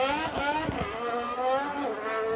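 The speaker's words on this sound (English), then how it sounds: "It does sound like a lawnmower" An Audi Formula 1 car engine at preseason testing gives a buzzy, raspy harmonic drone with wavering pitch and a few sharp low pops, loud and near.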